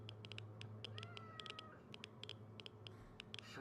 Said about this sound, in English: Was that a cat sound?